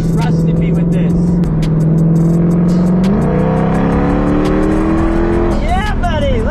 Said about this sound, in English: I'm driving a Shelby